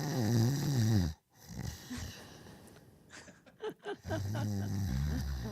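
Snoring from a person, a rough wheezy snore that fills the opening second, breaks off, then returns loud at the end, with clicks and breathy noises between the snores.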